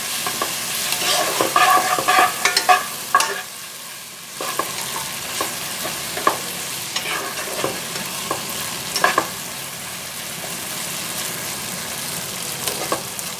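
Masala pasta seasoned with Maggi masala powder fries and gets stirred in a pan, making a continuous close sizzle with repeated scrapes and knocks of the spoon, a brief lull midway, and no talking.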